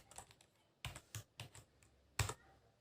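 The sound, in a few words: typing on computer keyboard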